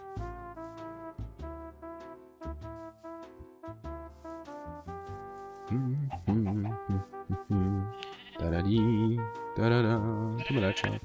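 Sheep bleating in Minecraft, several wavering bleats that grow louder and more frequent toward the end, over background game music.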